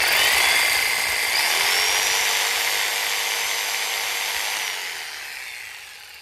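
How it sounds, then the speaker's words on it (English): An electric jigsaw powered from a portable power station runs at a steady high-pitched whine and buzz, loud and close, before winding down near the end with no talking. "I got a jigsaw here, so we're gonna pull some power on this guy."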